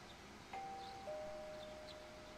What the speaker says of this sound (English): You hear the doorbell ring.